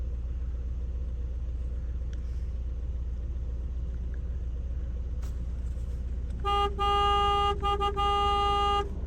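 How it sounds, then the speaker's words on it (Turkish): Over a steady engine rumble, a car horn sounds near the end in a few loud, close honks, one long blast broken into short toots. "Kornaya basıyorum ya bak takılıyor geliyorlar peşime."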